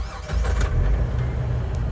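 A 2003 Jeep Wrangler Sahara with 281,000 miles starts up, a brief crank settling into a steady, loud low engine rumble close by, with no talk over it.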